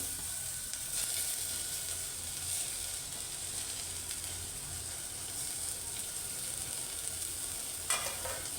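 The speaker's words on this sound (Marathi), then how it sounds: "आता हे सगळं मी फोडणीला घालते" Loud, steady frying sizzle with a bright hiss as colocasia leaves and stems go into tempering oil, occasional crackles and a stirring scrape near the end.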